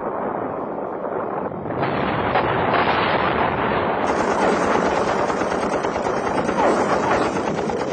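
Dense, continuous gunfire from the Battle of Berlin in archival wartime footage, rapid machine-gun bursts blending into a loud, unbroken roar of shooting with no pauses.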